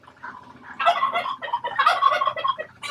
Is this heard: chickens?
yes